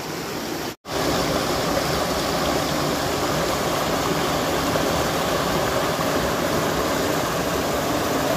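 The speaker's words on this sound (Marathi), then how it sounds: "आणि खळखळणारं पाणी बघा तुम्ही" Water gushes and churns loudly and steadily beside a Shiva linga at the thousand-year-old Pokharbav Ganpati temple in Dabhole, a dense continuous rush broken only by one brief dropout near the start.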